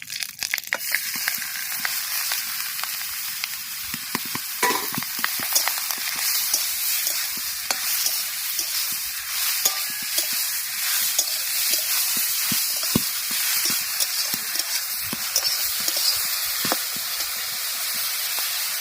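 Grated bottle gourd fries in pure desi ghee with a steady, close sizzle and crackle, broken by frequent scraping stirs, with no voices throughout.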